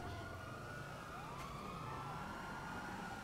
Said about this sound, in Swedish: Här var det polisbilar fullt.